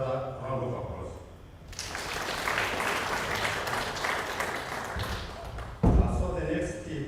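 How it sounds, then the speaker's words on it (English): A conference audience in Tanzania breaks into a round of applause, dense clapping swelling after a moment of speech and holding steady for several seconds before a thump and voices return. "I think another round of applause."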